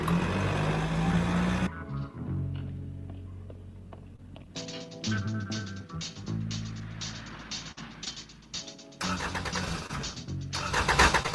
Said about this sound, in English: Oh, come on, fire up, baby. Come on, fire up.